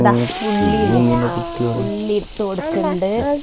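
Chopped onions for masala sizzle loudly and steadily in a hot pan, a continuous crackling hiss under voices that keep talking close by.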